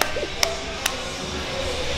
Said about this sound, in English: Man, I fucking love the sound of metal plates